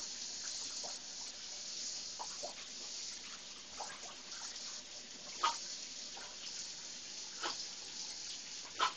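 Shower water runs in a steady, fairly faint hiss while a Border Collie drinks from the stream, with a few soft splashes and lapping sounds breaking through.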